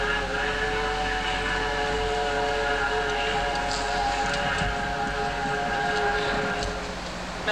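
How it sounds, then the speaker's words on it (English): Train passing as a theatrical sound effect in a 1989 community-theatre staging of a Thornton Wilder play, a loud sustained rumble with a tonal whistle-like hum running throughout and no voices. "just watched the Albany train go by"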